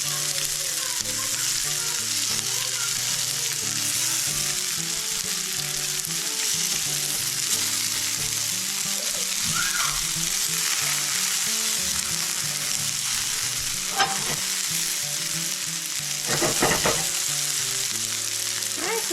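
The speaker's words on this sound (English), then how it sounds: "Good old bacon grease. Yeah, that's what you want to hear." Bacon sizzles and fries steadily in its own hot grease for a breakfast scramble, a dense continuous crackle with occasional louder pops and scraping stirs, close and loud, no talking.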